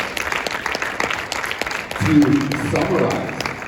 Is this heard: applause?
yes